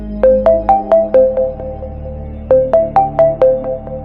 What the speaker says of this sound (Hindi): तभी घर के टेलीफोन पर मुखिया का कॉल आया।